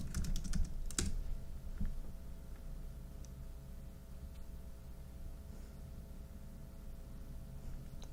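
Someone types quietly at a computer keyboard, with a quick cluster of key clicks at the start, then sparse, faint taps over a low steady hum.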